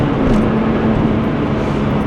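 A Porsche 996.2 Turbo with 420 horsepower drives through the Black Forest, its engine a steady loud droning roar heard from inside, continuous and unbroken, with no talk over it.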